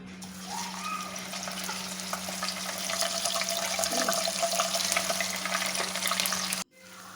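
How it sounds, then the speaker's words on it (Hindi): Boiled mutton sizzles as it fries in hot oil, making a steady, moderately loud hiss over a constant low hum, then cutting off abruptly near the end. "अब इसी ऑयल में उबला हुआ गोश्त डालना है।"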